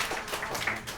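A congregation at a Korean Sunday church service clapping hands together, a brief, fairly close patter of many overlapping claps with no voices over it.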